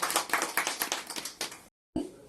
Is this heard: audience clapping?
yes